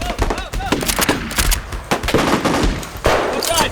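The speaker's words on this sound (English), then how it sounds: "The forest suddenly erupts with the sound of blaster fire." Nerf blasters fire in a forest skirmish, producing a scattered series of sharp pops and clatters in irregular bursts at close to middle distance, with faint voices mixed in.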